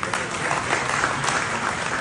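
An audience claps together at a Pakistani Independence Day community forum in Denmark, giving a dense, loud burst of applause that carries on steadily and close by, with no speech over it.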